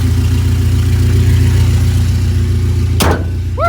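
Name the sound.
car engine idling with new exhaust header, Skunk2 manifold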